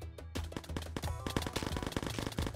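Rapid weapon shots in the video game Necesse fire as a dense, continuous burst of bangs at moderate volume, heard without talk.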